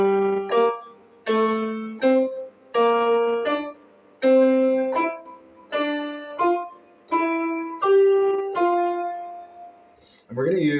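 Piano notes rising through a major scale in separate short phrases, each run leaping around rather than stepping evenly, about eight clear groups of notes in a steady rhythm, close and clean with no talking until a short vocal sound at the end.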